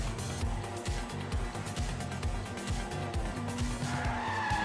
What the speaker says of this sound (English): The drifting though sounds the same.